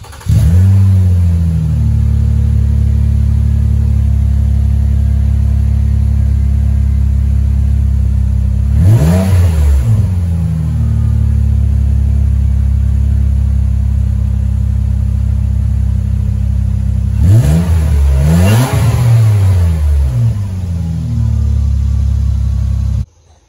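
A Nissan Altima's 3.5-litre VQ V6 with the muffler deleted idles with a loud, steady drone and rises into two sharp revs before settling back, close up with no talking.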